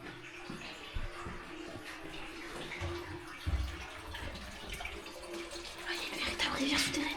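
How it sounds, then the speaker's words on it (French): Water from an underground river, the sewer outflow of a NATO bunker, runs with a faint, steady trickling splash echoing in an enclosed space, while people talk quietly nearby. "Rivière souterraine."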